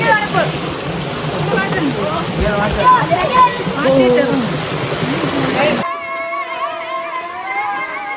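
Main waterfall at Brimore giving a steady rush of falling water under people chatting nearby, the water sound dropping away near the end as voices continue.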